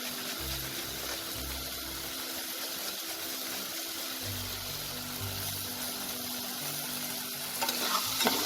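Tomato chutney with freshly grated ginger is stirred in a hot pan: a steady, soft sizzle with continuous low scraping and shuffling of the spoon, growing a little louder near the end.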